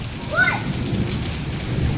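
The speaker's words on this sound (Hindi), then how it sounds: "और पानी भी बहुत दूर से बरस रहा है" Heavy rain pours during a storm with strong winds and hail, a steady close roar of drops with a low rumbling underneath and a brief chirp early on.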